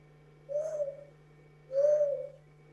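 A man whistles an imitation of a lone dove's cooing call, live in a TV studio: two clear, sustained cooing phrases, the second a little louder, over a steady low hum with no talking.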